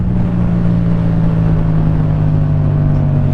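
A Yamaha MT-07 motorcycle engine droning loud and close at a steady high pitch, a continuous throbbing roar with no talking.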